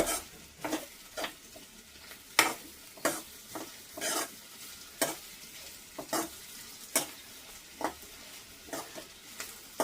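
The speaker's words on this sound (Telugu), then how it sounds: "ఒక 2 నిమిషాలు తప్పనిసరిగా ఇలాగా కలుపుతూ వేయించుకోవాలి" Ivy gourd with coconut is stir-fried on high heat, with a soft, continuous sizzle broken by repeated spatula scrapes and taps against the pan at an irregular pace, close but fairly quiet, with no talking.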